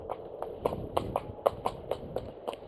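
A spooking horse's hooves clip-clop in a quick, uneven series of sharp, close knocks, about a dozen strikes in under three seconds.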